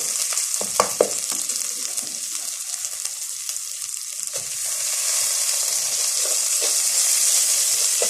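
Rice being stirred in a pot for Egyptian koshari, a constant hissing sizzle with a few scraping strokes early on, the frying noise swelling louder toward the end, close and without speech.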